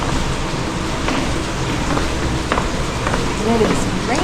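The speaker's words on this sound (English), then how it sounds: "And it is raining, which supposedly makes it better." Steady rain falling in a Costa Rican rainforest at night near La Fortuna, a dense continuous patter with faint footsteps and brief voices underneath.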